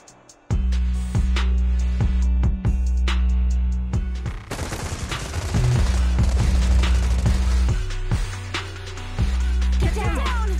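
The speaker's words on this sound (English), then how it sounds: "Gunfire? This pattern. Suppressive marching fire." Video game Zenless Zone Zero gunfire, suppressive marching fire: heavy rapid bursts of automatic shots pound over a deep rumbling backdrop, pausing briefly and then resuming in repeated volleys, with a voice speaking at times.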